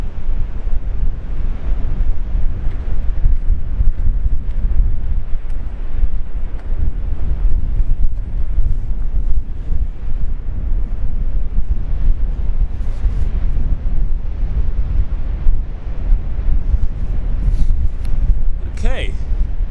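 Strong wind buffeting the microphone on a boat at sea, a loud, constant roaring gust noise mixed with waves and surf, with voices speaking over it.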